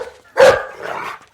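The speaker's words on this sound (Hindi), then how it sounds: "अबे कुत्ते क्यों भौंक रहा है?" A dog barks inside a car in a comedy film scene, one sharp close bark followed by a softer drawn-out whining yelp.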